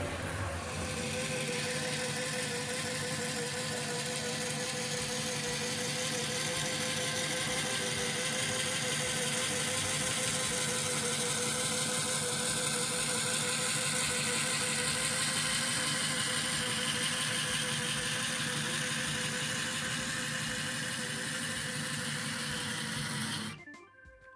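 A Tri-ang R.155 diesel switcher model locomotive with ribbed wheels runs on a rolling road, giving a steady mechanical whirring and rattling drone that holds for over twenty seconds before cutting off, with no talking.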